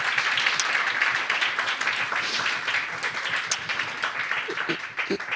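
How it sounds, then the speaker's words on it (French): A church audience at a training session claps together in sustained applause, close and lively with individual hand claps audible, and brief voices slip in toward the end. "Ouais, on peut applaudir."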